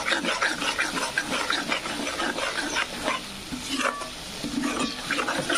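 Spice masala fries in a pan for Kolhapuri mutton curry, crackling and sizzling steadily up close while a spoon stirs and scrapes in uneven strokes.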